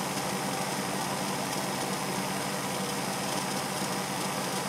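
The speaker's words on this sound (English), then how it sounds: "Now I can see and hear that motor." A serviced Hornby model railway motor runs steadily with a continuous whirring hum, loud and even throughout with no pauses.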